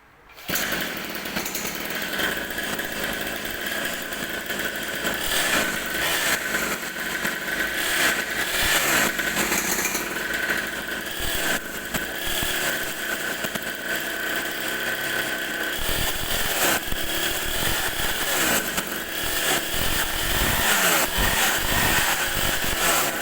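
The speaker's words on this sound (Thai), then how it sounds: "เดี๋ยวเราทดสอบสตาร์ทให้ดูโดย ช่างสิบครับ" A 50cc dirt bike engine is pull-started by a mechanic and keeps running as a loud, steady, buzzing rattle close by throughout, with no talking over it.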